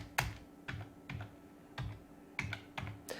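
Keys on a computer keyboard are tapped in a quiet room, with about seven soft, separate keystrokes spaced irregularly.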